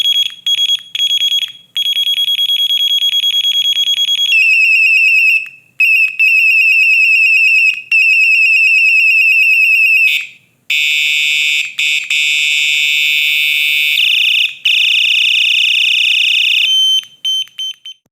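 A piercing electronic bicycle horn on a solar-powered bike, its fifth tone setting, sounds repeatedly in long and short bursts, shifting between steady and warbling tones, loud and continuous with brief gaps.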